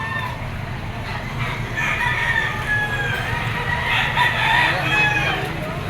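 Roosters and other chickens at a crowded poultry auction market in Lipa, with repeated overlapping crows and clucking at close range over a constant din of birds, while someone talks.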